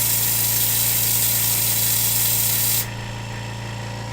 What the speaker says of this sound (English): I'm going to turn the pump on for a second.